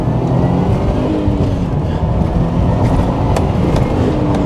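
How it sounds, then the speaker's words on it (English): Turbocharged engine of a Subaru Impreza STI Spec C hatchback accelerating hard away from a roundabout, a loud, steady, close drone with rising pitch and no speech over it. "The turbo spools up so quick."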